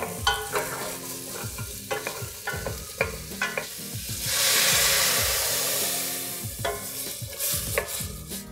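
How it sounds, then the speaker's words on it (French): Ingredients sautéing in melted butter in a pan, with a continuous close sizzle broken up by repeated stirring scrapes and a louder burst of frying hiss partway through. "on va mettre alors le beurre fondu, on met le tout"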